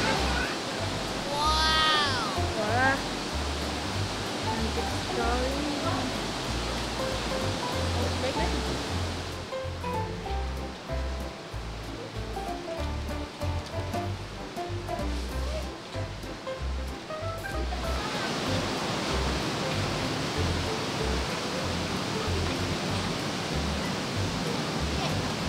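A river rushing below a spot where children are bike racing, a broad steady roar of flowing water that runs the whole time, with voices and chatter over it and a brief high squeal near the start.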